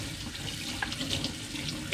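Tap water runs steadily over a beef steak being rinsed at a kitchen sink, a soft continuous hiss and splash with a few faint clinks, quiet and without talk.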